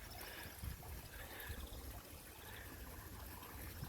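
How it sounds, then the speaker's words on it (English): A garden pond waterfall trickles softly and steadily, a faint continuous splash of falling water close by with no other sounds. "there's the grand waterfall"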